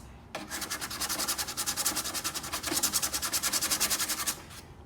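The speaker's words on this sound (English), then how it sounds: "I'm gonna take 60 grit and just barely hit" Light, gentle hand sanding with 60 grit sandpaper, a steady run of quick back-and-forth rubbing strokes, close and clear, with no talking over it.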